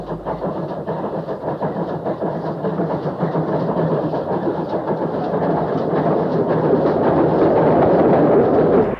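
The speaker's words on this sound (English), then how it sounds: "the last passenger train, albeit a special, arrives at Blaenau Ffestiniog." A passenger train, a special working on the last passenger run, rumbles steadily into the former Great Western station at Blaenau Ffestiniog, its heavy rolling noise building and growing louder as it draws in.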